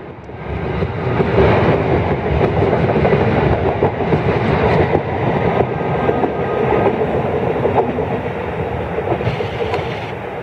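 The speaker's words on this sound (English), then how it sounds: "On train number 3513, departed Woodbridge, heading towards South Amboy." A New Jersey Transit train, number 3513, pulls out of Woodbridge station toward South Amboy, a steady loud rumble with wheel clatter rolling on throughout, close by and without talk.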